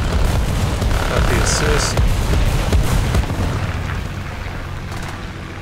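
Heavy artillery blasts and rumbling booms in War Thunder ground battle around an open-topped Flakpanzer I anti-aircraft vehicle, loud continuous low roar that slowly fades, with someone briefly speaking over it.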